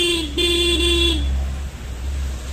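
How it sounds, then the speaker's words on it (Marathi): A car horn sounds close by in the rain. It gives one sustained blast broken into a few short toots, then stops, leaving a low engine rumble and the wash of rain. "हॉर्न वाजवतो मी, येतील पप्पा लगेच."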